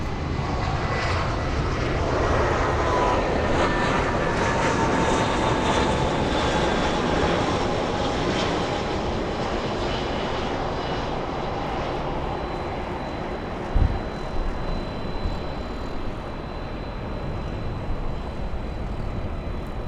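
An airplane at LAX airport roars steadily and loudly throughout, a broad sustained engine rumble with a slowly shifting whine as it passes, no talk over it.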